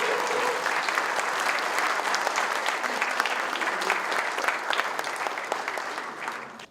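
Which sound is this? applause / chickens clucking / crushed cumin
applause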